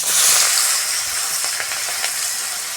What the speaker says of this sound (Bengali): ওই তেলের মধ্যে পেঁয়াজ কুচনোটাও দিয়ে দেবো।